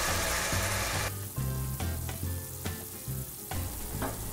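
Pecans fry with maple syrup in a pan, bubbling and sizzling steadily, with bursts of stirring and tossing that make regular clattering pulses.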